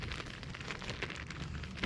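Light rain falls outdoors, a steady, fine patter of drops filling the space evenly and softly, with no voices.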